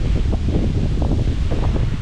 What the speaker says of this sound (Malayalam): നല്ല കാറ്റുണ്ട് കേട്ടോ, നല്ല തണുത്ത കാറ്റുണ്ട്